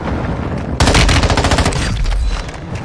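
Rapid automatic gunfire rattles loudly in a video game, starting near the middle and continuing as a dense, fast burst of shots over constant background game noise.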